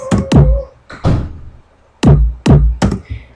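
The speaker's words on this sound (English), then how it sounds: "it's a basic kick, nothing done to it because I wasn't focusing on that" A basic, unprocessed electronic kick drum in an 8-bit style track hits about six times in an uneven pattern, each a punchy close thump with a quick decay and no other sounds.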